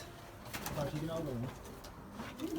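Pigeons coo in low, rolling calls close by, with someone talking over them and some background bustle.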